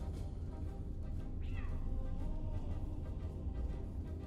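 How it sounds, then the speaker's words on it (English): A cat in a naval strategy game meows once, a short rising-and-falling call heard over a steady hum of game background sound. "Cat."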